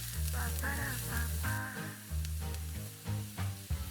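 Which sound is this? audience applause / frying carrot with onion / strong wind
frying carrot with onion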